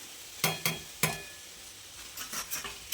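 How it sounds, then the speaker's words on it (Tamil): Grated coconut being stirred into cooked fenugreek rice with carrot: a spoon clinks and scrapes against the pot in a few distinct strokes, then softer rapid scraping, close up over a faint sizzle. "நம்ம தேங்காய் பூ மட்டும் போட்டு கிளறிடலாம்"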